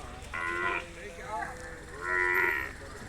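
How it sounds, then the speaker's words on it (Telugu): Jafarabadi buffalo calves at a Sunday buffalo market in Erragadda, Hyderabad, giving several loud, drawn-out moos close by over a busy background murmur. "ఇవి జాఫ్రాబాదీ దూడలు చూడొచ్చు ప్యూర్ జాఫ్రాబాదీ"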